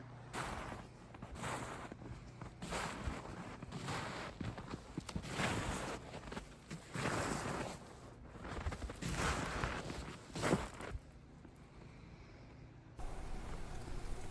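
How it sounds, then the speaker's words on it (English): Careful footsteps crunch through snow on a steep hill leading down to a lake, a slow steady series of soft close crunches with outdoor background noise. "I am being very careful walking in the snow because this is a steep hill going down to the lake"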